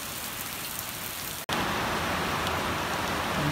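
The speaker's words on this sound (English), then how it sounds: "we got rain" Steady rain falls outside around a house where window leaks are being checked, a dense continuous hiss that briefly cuts out and then returns louder and closer for the rest of the moment.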